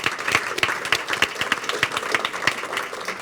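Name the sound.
audience applause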